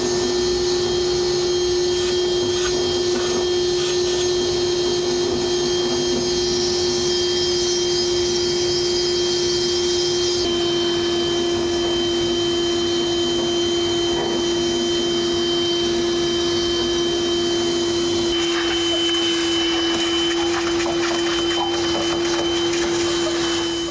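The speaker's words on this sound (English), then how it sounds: "and then suck it out with the vacuum." A vacuum cleaner sucking lint from a clothes dryer runs in a steady, loud, unbroken drone with a constant hum, close by and with no voices over it.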